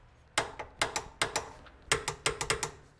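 A torque wrench tightens Subaru Forester control arm bolts to 81 foot-pounds, giving a close series of sharp ratcheting clicks in uneven bursts, with some strokes carrying several quick clicks and others one loud snap, and no voices.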